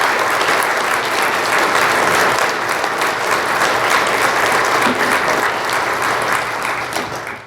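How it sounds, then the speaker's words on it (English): Loud, dense applause fills the room at a fire department award ceremony, many hands clapping continuously and evenly before tapering off at the end. "So let's give them a round of applause."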